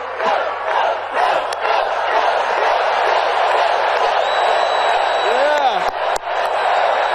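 Huge crowd at a political rally in Philadelphia cheering and roaring, a loud continuous wall of voices with shouts and whoops rising above, a whistle-like tone sliding near the end, captured as played-back footage.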